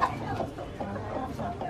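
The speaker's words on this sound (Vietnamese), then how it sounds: "Ô, con gà, con đây có cả gà tre à?" Bantam chickens on a home farm clucking close by, a steady run of short throaty clucks and murmurs with no voices over them.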